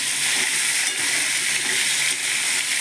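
Stalks drained of water sizzle loudly in very hot oil with nigella seeds on high flame, a dense continuous hiss with faint stirring scrapes, close and steady, no talk.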